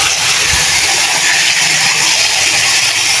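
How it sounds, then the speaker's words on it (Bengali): Potato, pointed gourd, green chili and onion frying lightly in soybean oil, giving a steady, loud, close sizzle and hiss that runs unbroken with no talk. "এটা এখন আমি তেলের উপর, সয়াবিন তেলের উপর হালকা ভেজে নেব।"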